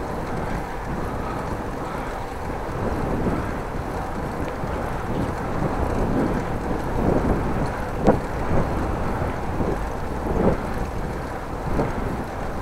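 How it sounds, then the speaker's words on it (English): A hard headwind buffets a cyclist riding a country road near Groningen, a continuous loud rumbling roar over the microphone with gusty swells and a few sharper bumps, no talking. "And I do have a headwind now."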